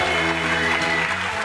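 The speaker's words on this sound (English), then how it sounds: "Big applause. Big applause." A studio audience on a 1988 television dating show applauds with steady, dense clapping that fills the room for a moment.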